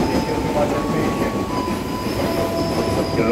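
KRL commuter train arriving at a station platform near Jurangmangu, Tangerang Selatan, a loud steady rumble of rolling wheels with thin squealing tones, close and continuous.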